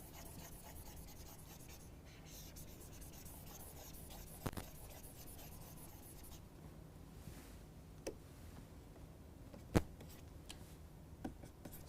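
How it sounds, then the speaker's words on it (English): A marker or chalk scratches and rubs across a board during a lecture, faint and continuous, with a few sharp taps scattered through it and no voice over the writing. "I am going to write it on the top."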